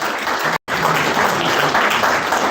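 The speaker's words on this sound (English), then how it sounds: "Please can we clap for him" An audience at an unveiling event claps for a guest speaker, steady, close, fairly loud clapping broken by a brief cut of silence early on.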